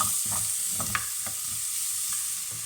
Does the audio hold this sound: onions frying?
yes